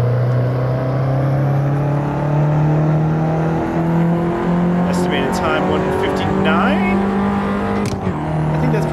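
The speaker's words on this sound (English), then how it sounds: "I love the sound of this little engine." A turbocharged Fiat 500 Abarth in a racing video game drones steadily as its engine holds and shifts pitch through a lap, with brief tire squeals and whooshes midway, while people talk over it.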